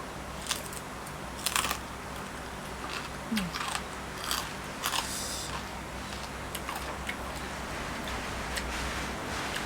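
Eating Lao papaya salad with crispy pork and seafood dipping sauce: scattered close crunches and chewing clicks come in irregular bursts over a steady background hum, with no talk.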